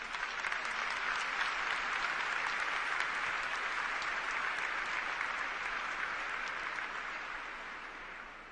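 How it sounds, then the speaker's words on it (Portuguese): A congregation at a church service applauds, steady dense clapping that holds for several seconds and then gently fades, with no talking over it. "Vamos aplaudir essa palavra."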